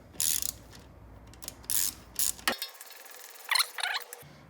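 Ratchet wrench tightening the rear brake caliper pin bolt on a Honda CB1100EX motorcycle, a few close bursts of quick ratcheting clicks with short pauses between them, heard alone.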